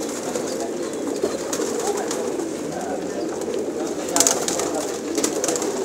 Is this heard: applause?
no